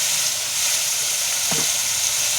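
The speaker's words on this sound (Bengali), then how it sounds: "ঝিঙেটা দেওয়া হয়ে গেছে, এবার ঝিঙেটা ভেজে নেওয়া হবে।" Ridge gourd frying in a pan gives a steady, fairly loud sizzle throughout, with a brief scrape of stirring near the middle and no voices.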